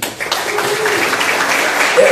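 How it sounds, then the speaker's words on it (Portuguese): An audience at a state history-teaching conference applauds, a brief, steady burst of clapping with some voices mixed in. "Palmas para o professor Flávio aí"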